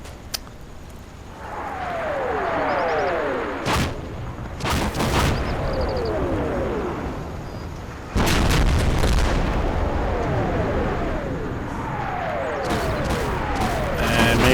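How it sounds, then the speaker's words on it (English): Shells from German artillery land around a hilltop position in the wargame Combat Mission: Operation Bluecoat, with repeated heavy booms and crumps in bursts, some close and loud, over a constant background rumble. "it's definitely German artillery landing around my XO on the hill there"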